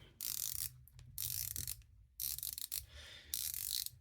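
Rapid, even ratchet clicking from a rotating Swatch Blancpain Fifty Fathoms watch bezel, a buzzy rattling burst repeated in several turns with short pauses between.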